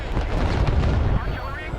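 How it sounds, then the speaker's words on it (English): Artillery fire and explosions from the Broken Arrow real-time strategy game form a loud, continuous battlefield roar with overlapping booms that ease slightly toward the end. "Broken Arrow aims for a very cinematic approach in its presentation, with spectacular explosions and immersive battlefield sounds"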